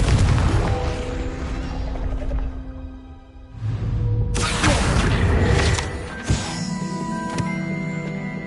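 A Confringo fire spell bursts in the Hogwarts Legacy video game, landing as a heavy booming blast with a crackling, roaring tail amid rumbling game effects and a later sharp impact.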